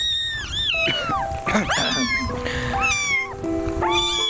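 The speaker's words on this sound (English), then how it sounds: "the kitten we have in the studio" A small kitten in a studio meows repeatedly in quick, high-pitched cries, close and loud, with a few overlapping calls and no talking.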